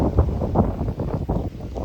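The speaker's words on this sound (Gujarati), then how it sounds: "બાકી પવન બહુ નીકળી રહ્યો જોતા પવન હો" Strong gusty wind blowing outdoors after heavy rain, buffeting the microphone in continuous loud rumbling surges with no speech.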